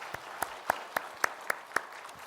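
A church congregation claps for the choir, producing a short run of distinct, evenly spaced claps in a steady rhythm over a soft, diffuse room background, fairly close and moderately loud.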